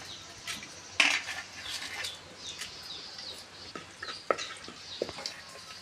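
Quiet sizzling of garlic, cumin, curry leaves and dried red chillies tempering in hot oil, with scattered stirring scrapes and light metallic clinks.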